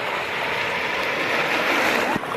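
Sea waves rolling in at Bakkhali beach, a continuous loud wash of surf close by.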